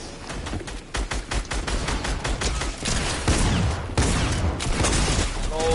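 Dense, continuous video-game gunfire in rapid bursts fills the whole stretch, loud and close, with a few heavier booms mixed in.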